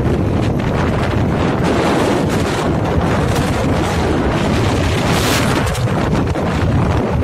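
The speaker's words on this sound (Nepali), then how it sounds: "यस्तो डेन्जर हावा कसै चलायो" Strong wind roars continuously across an open rooftop in a Nepali village, a dense, steady buffeting rush that dominates the whole stretch with no voices.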